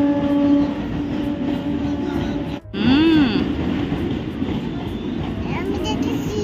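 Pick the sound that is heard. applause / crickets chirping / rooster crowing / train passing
train passing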